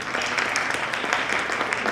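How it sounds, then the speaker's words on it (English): An audience claps for the panelists at a business event, dense and steady applause from many hands, moderately loud and continuous, with a faint voice mixed in. "Clap for my panelists, guys"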